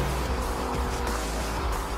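A steady low engine drone from a 2021 Mercedes-AMG GT Black Series hums continuously for two seconds at a constant pitch with a faint rasp on top.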